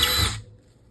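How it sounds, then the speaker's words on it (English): A power drill pre-drills holes in a wall for ClosetMaid closet shelf supports, a loud high whirring burst that cuts off quickly and leaves a faint low rumble. "Just pre-drill your holes."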